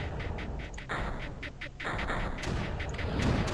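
Turrets in the strategy video game Creeper World fire repeatedly, producing dense, rapid bursts of booming shots with a brief lull in the middle, while a voice is heard faintly.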